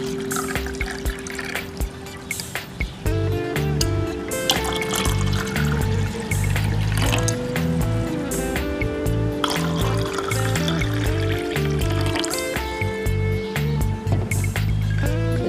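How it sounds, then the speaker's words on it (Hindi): Cold water is poured into a glass of shikanji, a lemon drink already mixed with syrup, making a continuous splashing trickle under background music. "ठंडा पानी हम यहाँ पर ले रहे हैं।"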